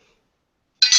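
Heavy metal Disney bling spinners clink together in a short burst of two bright metallic chinks, close and loud after a stretch of silence.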